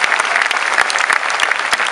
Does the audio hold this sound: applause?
yes